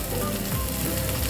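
Whole cumin seeds frying in a covered pan on low flame, a dense, continuous close-up sizzle with a faint crackle running through it, no voices.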